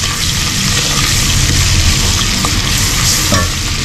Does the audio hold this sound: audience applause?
no